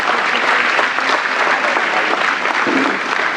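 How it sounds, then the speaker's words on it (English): Loud, dense applause from a crowd at a Christmas punk show gathering, a continuous wash of many hands clapping close by with no pauses. "do you guys give yourself a round of applause"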